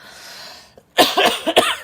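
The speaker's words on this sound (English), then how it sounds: "sorry about the coughing" A woman coughs twice close up, a hoarse burst of several rapid hacks and then a shorter cough, after a faint murmur in a quiet room.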